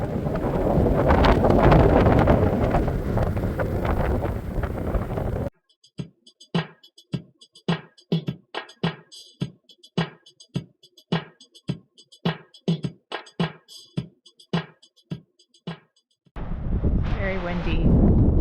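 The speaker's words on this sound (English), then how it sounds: "Very windy." Strong wind at a winter campsite, loud buffeting gusts roaring against the microphone, broken midway by a long run of rhythmic regular thumps before the wind returns.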